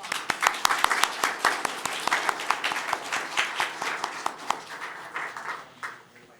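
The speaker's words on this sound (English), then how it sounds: "a big round of applause" Scattered, distinct hand claps from a modest audience at a county board of commissioners' meeting, a fairly close and moderately loud round of applause that thins out and fades toward the end.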